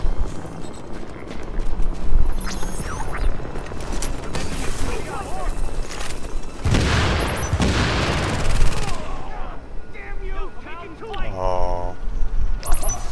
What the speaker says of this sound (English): Oh, there's my turret now.